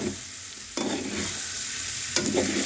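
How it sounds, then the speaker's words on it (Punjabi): Potato fingers fry in hot oil with a steady, close sizzle, broken by two brief bursts of stirring. "ਇਹ ਦੇਖੋ ਬਹੁਤ ਵਧੀਆ ਭੁੱਜ ਗਏ ਨੇ"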